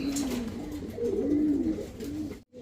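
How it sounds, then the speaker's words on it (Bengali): Pigeons for sale coo in low, throaty rolling notes, several overlapping calls close by and steady, ending with a brief gap of quiet. "এখানে দেখতে পাচ্ছেন একটি শর্ট পিস কবুতর"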